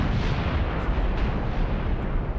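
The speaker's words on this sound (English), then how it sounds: "They're using the secondary weapon. And it looks like that secondary is a recoilless rifle." Recoilless rifle fire in a wargame set in the Iran-Iraq war against dug-in Iraqi tanks, heard as a continuous loud, rumbling barrage of booming blasts that blend into a dense wall of low explosive noise.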